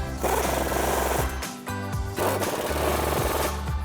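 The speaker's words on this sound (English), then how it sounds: "So grab that 21mm swivel socket again and tighten them down." A 21mm swivel socket on a ratchet or impact tool tightens the upper control arm bolts on a 2019-2025 RAM 1500 fitted with ReadyLIFT tubular arms, giving loud sustained mechanical buzzing in two long bursts separated by a short pause.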